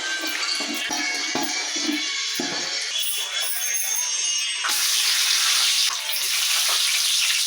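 Oil, ginger and ghee fry and sizzle loudly in a pot while being stirred, a steady, close, hissing roar that swells brighter partway through, with faint talk early on.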